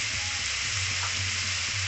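Ginger, garlic and chili paste with salt and turmeric sizzles in a hot pan, giving a continuous close frying hiss with no talking.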